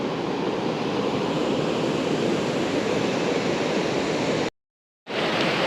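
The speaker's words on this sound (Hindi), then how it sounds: "बिल्कुल इस पर पानी के पास बैठे हैं सारे और ये इतना तेज़ चल रहा है पानी इधर" Fast-flowing mountain river in Barot Valley rushing past rocks, a loud, steady broadband roar close by with no talk, cut briefly by a half-second gap before the torrent resumes.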